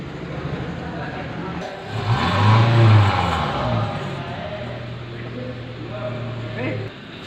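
A car engine rises as the throttle is pressed, then settles back to a steady idle, close and loud, during an automotive light-vehicle maintenance check, with a voice talking over it.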